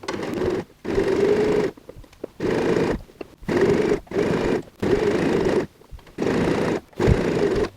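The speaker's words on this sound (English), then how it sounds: "let's go ahead and sew a 1/2 inch seam" A sewing machine stitches a half-inch seam in fraying curtain fabric for a tote bag, running in steady bursts of whirring with short pauses between each run, close and fairly loud.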